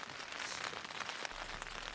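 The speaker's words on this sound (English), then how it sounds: "The rain was coming down in sheets" Heavy rain pours down steadily on an exposed Scottish hillside during a wet hill walk toward Tolmount, a dense continuous hiss of drops close to the microphone with no voices.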